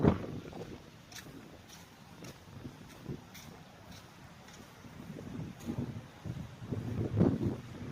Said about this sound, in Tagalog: Ang lakas ng alon, di.